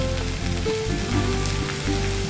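A close, constant sizzle of potatoes, onion and cauliflower frying in hot oil in a winter vegetable fry, crackling evenly with a faint low rumble underneath and no voices.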